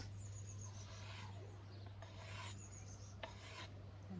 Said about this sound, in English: I'm going to sharpen it using the whetstone again